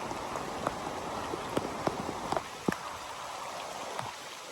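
Steady rain patters across a forest, a dense even wash of drops with occasional heavier drips striking nearby leaves, no voices.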